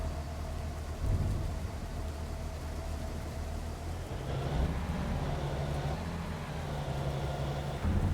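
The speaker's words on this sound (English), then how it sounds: "it is raining" Steady rain in the Farming Simulator 25 game on a Montana homestead farm, a continuous hiss with low rumbling beneath it, fairly even in level throughout and with no talking over it.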